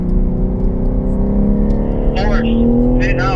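A gray Mustang race car drones steadily nearby as it pits in at a track, its engine whirring at a constant pitch while a voice talks over it.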